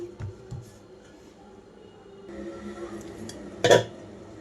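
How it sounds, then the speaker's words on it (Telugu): A lid set onto a cooking pot with one sharp metallic clank near the end, following quieter kitchen clatter and handling, in a home kitchen while preparing fenugreek-leaf chapati dough. "మూత పెట్టేస్తున్నాను"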